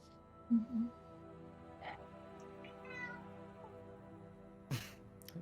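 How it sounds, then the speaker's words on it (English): A cat meows twice in quick succession near the start, followed by a few softer, scattered meows and a later brief cry, all fairly close and set against a quiet, steady background hum. "Damn cat."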